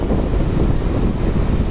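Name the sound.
wind blowing at the beach into the microphone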